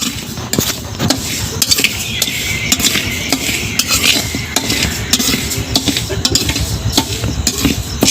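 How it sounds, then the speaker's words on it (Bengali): Dal being fried and stirred in a pan at an outdoor picnic, with a steady clatter and scrape of a utensil against metal under a low background hum, close and continuous. "ডাল ভাজা চলছে"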